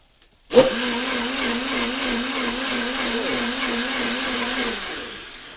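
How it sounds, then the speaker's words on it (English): A blender runs steadily for about four seconds while blending salad dressing, a loud continuous motor whir that starts abruptly and then cuts off, with no talking over it. "I'm going to once more run it in a blender."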